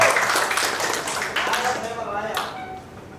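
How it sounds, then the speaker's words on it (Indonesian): Audience applause for the South Sulawesi governor at a press association ceremony, scattered clapping with sharp individual claps that gradually fades, with speech blended in. "Aplaus tepuk tangan yang meriah."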